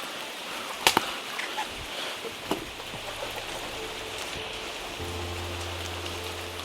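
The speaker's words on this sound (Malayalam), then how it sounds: "മഴ കൂടിയിട്ടോ." Heavy rain falls steadily outdoors beside an aquarium setup, a dense continuous hiss with a few sharper drips near the start; a low steady motor-like hum joins partway through. No one speaks.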